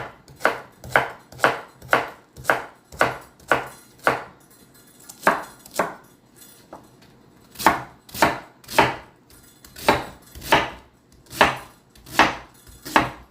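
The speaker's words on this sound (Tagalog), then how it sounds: "Cabbage, chop the cabbage." Cabbage being chopped with a knife on a board, with a steady run of about two dozen crisp, evenly spaced cuts and a brief pause midway, close and clear with no talking.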